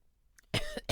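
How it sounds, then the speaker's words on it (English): A person coughs alone, a short burst of two or three harsh coughs following a brief quiet moment. "I'm coughing on my own."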